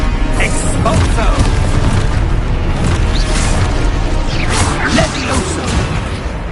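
Expulso explosion spell in Hogwarts Legacy, loud booming blasts with whooshes and crashing debris in a dense, continuous battle din with no talk.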